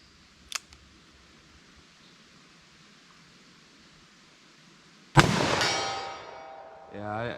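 A magnum revolver fired single action at an outdoor range: a faint click early on, a long quiet stretch, then one loud, sharp report that rings and decays, followed by a brief tonal sound at the end.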